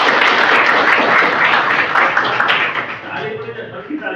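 A room full of listeners claps after a talk on modern cyber threats and their prevention. The applause is loud and dense, then thins and fades over the last second as the clapping dies away.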